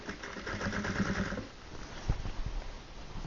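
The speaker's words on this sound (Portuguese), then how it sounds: "E aí, a gente já rebate essa costura aqui." A sewing machine runs steadily as it topstitches a seam along the binding of an upcycled denim rug, a close, continuous whirring hum that changes pitch partway through and ends with a soft mechanical knock.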